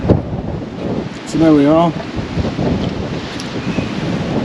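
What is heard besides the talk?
wind blowing by the bay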